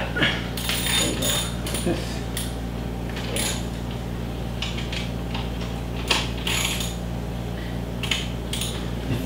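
A car jack cranked by hand while changing a flat tire, a steady ratcheting, clicking mechanism running through the whole stretch, close by and moderately loud, with people talking over it.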